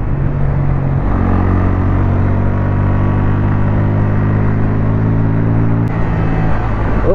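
Bajaj Pulsar N160 and KTM Duke 200 motorcycles racing side by side, a loud continuous engine drone with shifting pitch as they accelerate, recorded close with heavy wind rumble and no talk.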